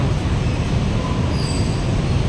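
A BTS Skytrain rumbling through Asok station in Bangkok, a loud continuous rolling roar of wheels on rails with faint squealing tones, no talk.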